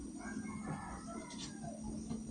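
A chicken clucks and crows softly in a rural yard, faint and somewhat muffled against steady background noise.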